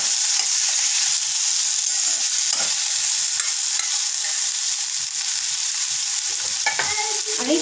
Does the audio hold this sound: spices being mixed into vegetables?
yes